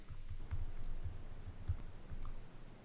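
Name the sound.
typing on a computer keyboard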